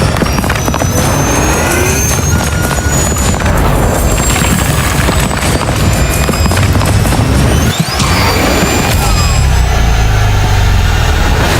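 A Formula E championship racing car speeds past at high velocity, its high-pitched electric whine rising and falling over a loud, continuous rush of wind and road noise.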